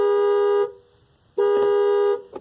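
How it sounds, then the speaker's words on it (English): A car alarm blares in a store parking lot, two long, loud, steady horn tones separated by a short gap, up close and alone. "the fucking car alarm. It's going off. It's fucking loud as shit."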